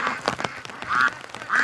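Ducks quack repeatedly in a storm, several close, loud calls in quick bursts with rain hiss underneath.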